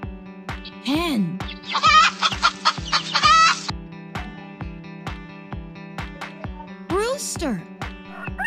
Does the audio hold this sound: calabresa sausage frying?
no